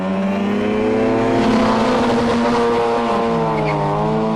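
Mazda RX-5 rotary-engined car at full throttle, a loud close buzzing rotary note climbing in pitch through the gears with a brief dip mid-pull, alone without voices.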